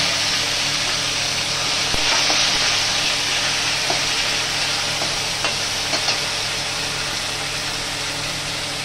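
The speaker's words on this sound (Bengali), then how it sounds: "ফোড়নটা একটু ভেজে নেব 2 মিনিট। এর মধ্যে টমেটো দিচ্ছি একটা কুচানো।" A steady, dense sizzle of spices and dried red chilli frying in oil, with chopped tomato added, in a pan for Bengali moong dal with cauliflower, continuous and close with a few soft clinks of stirring.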